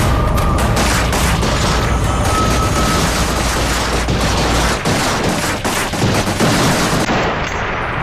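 Dense, loud gunfire fills a staged reenactment of a police shootout with a gang, continuous rapid shots and booms layered together without pause, with no speech.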